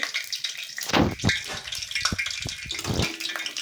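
Mustard seeds and cumin hitting hot oil, a burst of close, crackling spatter and hiss with sharp pops, rising and falling over a few seconds.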